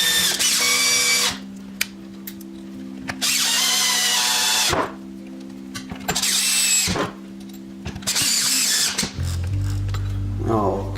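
Cordless power drill driving four fine-thread screws into the cover of a Craftsman mini tiller: repeated loud whirring bursts of one to two seconds each, separated by pauses with a steady low hum, close by.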